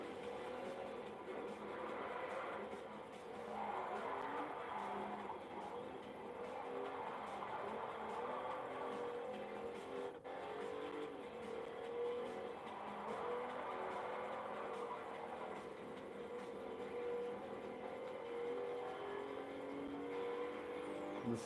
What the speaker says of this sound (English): Just hear the transmission whine is quite nice.